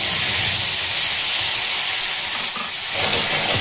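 Prepared spice paste hits hot oil in a pan while cooking a carrot dish, giving a loud, steady sizzle and hiss that continues throughout with no talk.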